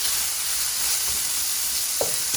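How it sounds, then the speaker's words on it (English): Bacon frying for baked beans, a close, steady crackling sizzle of rendering fat with a couple of brief pops and stirs near the end. "I'm just going to cook this bacon until the fat is rendered"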